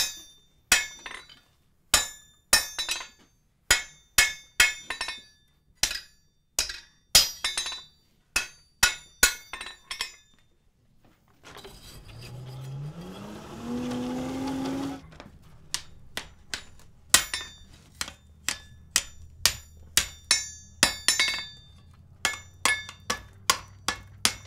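Blacksmith hammering hot iron on an anvil while forging a fleur-de-lis strap hinge: sharp, ringing metallic strikes in quick regular bursts, broken midway by a few seconds of rising hiss before the rhythmic blows resume.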